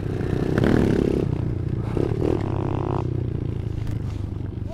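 A small motorbike strains under a heavy load on the way to a waterfall, a mid-pitched engine droning and revving nearby with scraping and clattering noises, and voices briefly heard.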